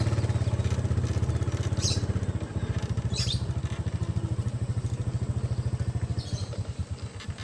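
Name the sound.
motorcycle riding on the road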